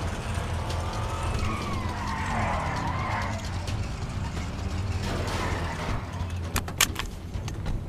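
A car sweeps past in a video game with tires skidding, the engine rising and fading over continuous motor noise, with a few sharp clunks near the end.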